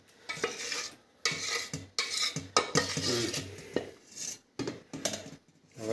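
Dhokla batter is mixed by hand in a container at a food stall, with wet, sloshing strokes in rhythmic bursts broken by short pauses, close and fairly loud, without speech.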